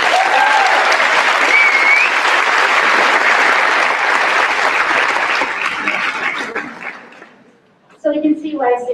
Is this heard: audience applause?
yes